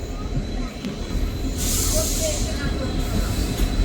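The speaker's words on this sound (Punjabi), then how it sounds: "ਇਹ ਹੈ ਪਲੇਟਫਾਰਮ ਨੰਬਰ 2 ਤੇ ਆਪਣੀ ਗੱਡੀ ਟ੍ਰੇਨ ਪਹੁੰਚ ਗਈ ਹੈ" A passenger train pulls in at platform 2 of Daun Kalan station, a steady rolling rumble with a brief bright hiss of brakes partway through and faint squeals, close and continuous.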